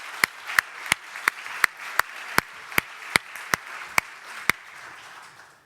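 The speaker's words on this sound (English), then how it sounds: "So do join me in giving them a big round of applause." An audience at an education-in-emergencies event claps, with about a dozen sharp, evenly spaced hand claps standing out over a faint, diffuse wash of clapping throughout.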